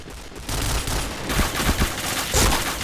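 MP7 submachine gun fires in a shooter game, loud rapid bursts of gunfire in several short volleys over busy background game noise.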